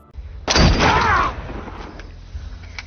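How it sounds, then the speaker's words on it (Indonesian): A single loud gunshot in a film scene, a sharp close blast that rings out and then fades into a lingering rumble, with no talking. "Connor menembak pastor itu."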